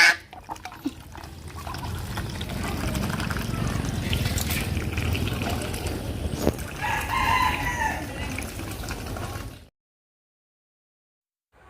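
A rooster crows loudly over a steady background of clucking chickens and ducks and running water, followed by a brief silence at the end.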